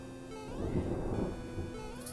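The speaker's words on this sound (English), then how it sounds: "Wow, there is a thunderstorm going off outside." A thunderstorm outside rolls through as a low, swelling rumble in the middle of the stretch, under steady electronic tones from a Super Mario Bros. 3 game.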